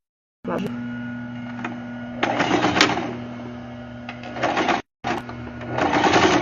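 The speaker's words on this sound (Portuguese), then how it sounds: "eu vou costurar aqui do lado de cima" Domestic sewing machine stitching along the top side of fabric for a diaper and wipes holder: a close, continuous buzzing run that surges in speed, stops briefly and then starts again.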